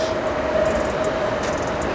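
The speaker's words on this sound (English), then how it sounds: "Can you hear the train?" A train runs through Hoxton in east London, heard as a steady, fairly loud broadband rumble with a thin whining tone over it, continuous for the whole stretch and with no talk.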